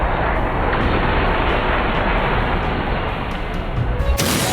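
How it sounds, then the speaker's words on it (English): Wriothesley's charge attack combo in Genshin Impact: a loud, dense, continuous barrage of impact and blast effects that never pauses, ending with a sharp bright burst. "I'm gonna use a simple combo rotation and let's see Wriothesley charge attack damage"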